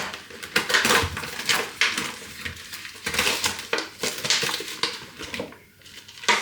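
Crinkly plastic packaging of lamb mince being torn and pulled open by hand, a dense run of close crackles and rustles that briefly dips near the end.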